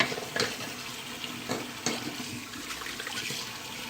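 A razor is rinsed under running water during a wet shave, a soft continuous splashing and trickle with a few small taps against the basin, fairly quiet and without speech.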